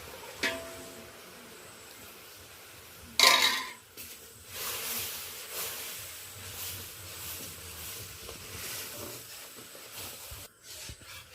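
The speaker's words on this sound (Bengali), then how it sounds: "নেড়ে নেব।" Spoon stirring caramelised sugar with a little milk in a cooking pot for homemade red sweet curd, giving soft scraping and rubbing sounds with a brief louder clatter, with no one talking.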